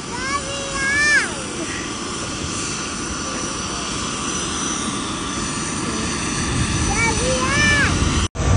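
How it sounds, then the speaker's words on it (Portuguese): An airplane flies overhead with a loud, sustained engine roar that fills the whole stretch, while high-pitched voices call out briefly near the start and again toward the end. "Olha lá, outro avião!"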